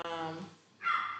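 Indoor dog giving a short bark, brief and fairly close, following a moment of a person talking.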